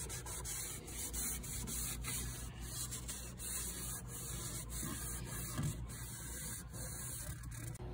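A rag scrubs steadily at leftover adhesive in the corners of an RV storage locker's weather-strip track, making close, continuous rubbing and scraping strokes in an uneven rhythm with no voices.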